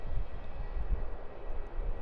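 Saab 340 turboprop airliner landing on runway 16 at Melbourne Airport, a steady low engine rumble and broadband roar held at even loudness throughout, with no voices.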